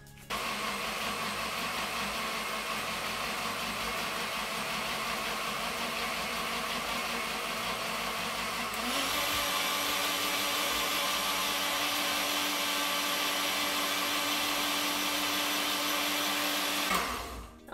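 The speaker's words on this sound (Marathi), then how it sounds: "आता आपण ते वाटून घेऊया।" A kitchen mixer grinder whirs loudly and continuously while pureeing tomatoes for Malvani tomato saar. Its motor pitch rises and steadies partway through, then the roar cuts off abruptly at the end.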